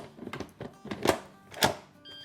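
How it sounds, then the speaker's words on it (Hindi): Pressure cooker lid being closed in a home kitchen while preparing masoor dal with mutton, heard as a few close clunks and clicks of the lid fitting, ending with a short electronic beep. "तो चलें, अब इसको हम बंद करते हैं अपने प्रेशर कुकर को।"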